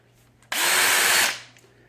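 A 1500 RPM power drill whirs up sharply, runs at a steady high pitch for under a second, then winds down, close and loud.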